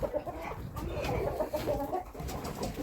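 Chickens cluck and murmur continuously at close range, a busy flock sound with overlapping soft calls.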